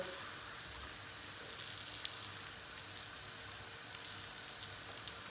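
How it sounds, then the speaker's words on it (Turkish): Börek frying in a pan gives a steady, quiet sizzle throughout, with occasional faint pops and no voices. "Ortalama 2 dakikada bu tarafını kızartacağız"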